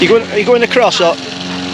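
A lawn mower runs at Rockland St Mary on the Norfolk Broads, its steady low engine drone carrying under close conversation throughout.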